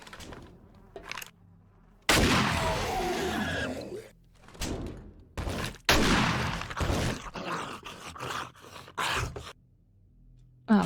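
Gunshots ring out at zombies in the survival video game 7 Days to Die, in loud broadband bursts and sustained stretches of noise separated by brief silences.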